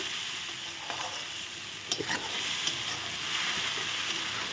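Spice paste of green chilli, ginger, poppy seed and mustard fries in a pan with a steady, close sizzle, broken by a few brief scrapes and clinks of a spatula stirring, with no talk.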